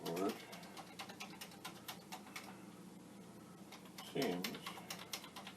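Typing on a Commodore 64 keyboard, a steady run of light, close key clicks with two louder thumps near the start and end, while a low background hum continues throughout.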